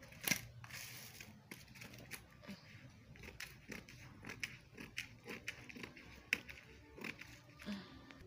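Scissors cutting a paper corset pattern along a straight line, a run of small crisp snips and paper rustles, close and fairly quiet, with no talk.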